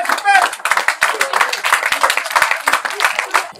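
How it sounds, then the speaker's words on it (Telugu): An audience at a yoga academy award ceremony claps together in a dense, quick patter of applause, loud and close, lasting a few seconds. "give big hand, claps claps"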